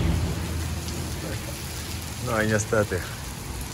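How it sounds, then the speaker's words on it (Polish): Steady rain falls in the Pakistani Himalayas, a soft continuous patter heard from under a shelter, with someone speaking briefly partway through. "Dorwał mnie deszcz w górach."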